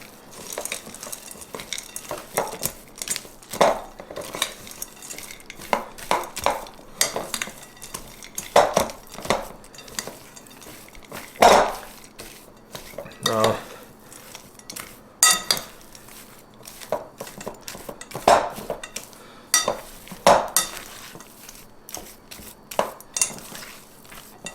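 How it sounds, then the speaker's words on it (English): A spoon scrapes and knocks steadily against a bowl as keto cookie dough with white chocolate and almonds is mixed. The irregular clinks and thumps come up close and carry on without pause. "we're just going to start mixing that all in and get this all incorporated"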